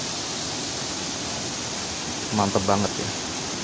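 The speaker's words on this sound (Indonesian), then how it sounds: "melihat air terjun tuh segar banget teman-teman" Curug Walet waterfall in Serang, Banten, a steady broad rush of falling water heard close and loud throughout, with a person briefly speaking over it near the end.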